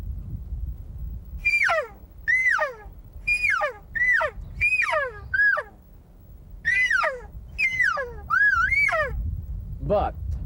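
A hunter's caller imitates a generic elk cow call: about ten short, high, falling mews in loose pairs and runs, loud and close over a low rumbling background.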